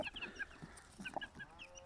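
Faint, close clucking and short chirpy calls from a rooster and chickens, soft and scattered over under two seconds.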